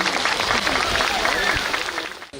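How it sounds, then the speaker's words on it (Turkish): A crowd claps steadily in dense, sustained applause at a Gaziantep ceremony rewarding children who read the most books with bicycles, a voice carrying over it before it cuts off. "Kendinizi bir alkışlayın."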